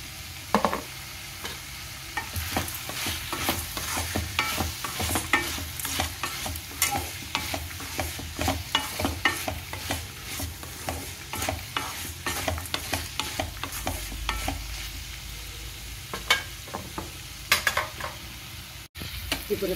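Ridge gourd pieces fry in an oil-filled pan, sizzling steadily while a spoon stirs in salt, turmeric, tamarind, cumin and garlic, with repeated scraping clicks over a low hiss and no talk.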